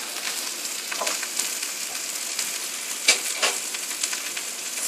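Butter sizzles in a hot pan for shrimp fried rice, a close, steady crackling fry with a few sharper pops and stirring scrapes breaking through, no voices over it.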